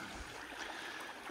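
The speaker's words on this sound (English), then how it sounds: "So this is Doubtful Creek." Water runs at Doubtful Creek along an alpine walking track among snow gums, a steady broadband rush without breaks, close and fairly loud, with no voices.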